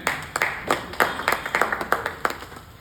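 Audience applause welcoming a guest onto the stage at a Vaish community conference in Guna, Madhya Pradesh: uneven hand claps from a modest crowd, moderately close, steady for about three seconds with no talk.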